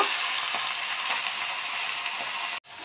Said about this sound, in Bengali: হয়ে গেল আমার মাছ ভাজা ইলিশ মাছ